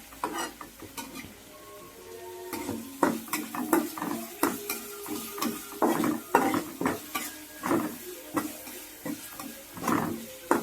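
Ingredients with garlic and curry leaves being stirred together in a pan over a gas stove, a run of scraping, clinking strokes against metal over a soft sizzle, fairly close, with no talking.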